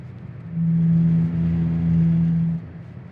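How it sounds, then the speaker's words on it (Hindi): Car tyres roll across a rumble strip on the Ganga Expressway, producing a loud, steady droning hum that swells in for about two seconds over road noise, then cuts away. "जैसे ही रंबल स्ट्रिप पे जाएंगे, आप साउंड सुनिएगा, मैं आपको सुनाता हूँ"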